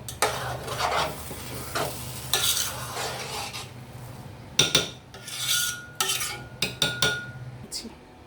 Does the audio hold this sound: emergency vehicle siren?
no